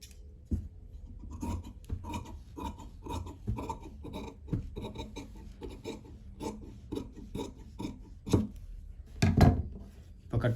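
Scissors cutting through boat-neck blouse fabric on a tailoring table, producing a series of short rasping snips in an irregular rhythm, close and fairly quiet.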